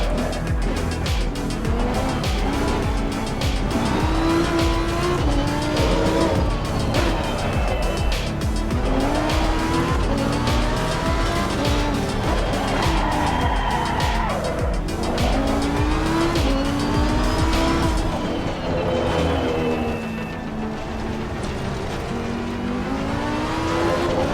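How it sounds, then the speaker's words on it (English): Tires squeal and skid in a racing simulator game as a car brakes hard with ABS and traction control off, flat-spotting its tires; continuous loud engine roar with wavering squeals throughout. "I'm getting some major flat spotting here."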